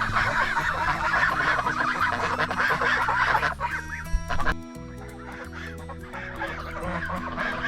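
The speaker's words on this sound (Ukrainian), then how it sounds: "Небоязливі, гарні гуси." A flock of geese honking loudly and repeatedly, overlapping calls nearby, with a brief lull before the honking resumes.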